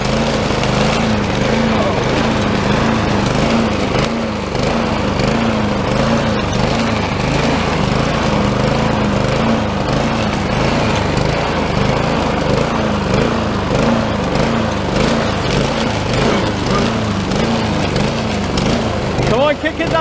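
A lawn mower engine running steadily while cutting grass, a loud continuous drone with a rhythmic throb that never lets up, and someone talking over it.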